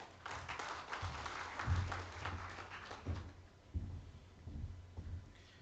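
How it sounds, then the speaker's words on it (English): Audience applause for a speaker at a panel discussion on maritime security, a steady faint patter of many hands that carries on for several seconds, sounding distant in a large conference hall. "Let's give him a round of applause, please."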